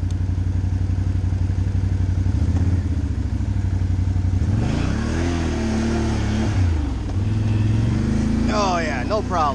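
A Can-Am Outlander 570 XMR ATV climbing a steep incline in low gear, its engine droning loud and steady close by while the pitch rises and falls, with clattering bumps from the terrain and someone talking over it.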